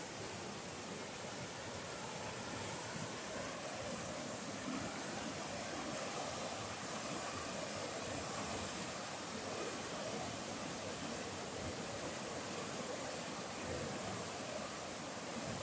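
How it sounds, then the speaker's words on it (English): Spring water rushing at Greer Spring in the Missouri Ozarks, a steady, broadband roar of flowing water that stays constant and close, with no voices over it. "Look how much water is flowing down."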